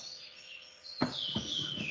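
Indoor pet birds give a steady run of thin, high tweets, growing brighter and busier after a sharp chirp midway, close by and unaccompanied by voices.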